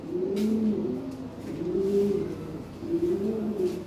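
Lahore fancy pigeons for sale, a breeding pair, coo softly and close in three slow rolling phrases, each a low throaty bubbling call with short gaps between.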